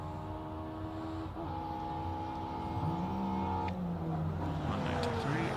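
A classic race car launches at the Simola hillclimb, its engine revving and blipping with anti-lag, rising in pitch as it accelerates away, heard at a distance beneath a loud continuous background.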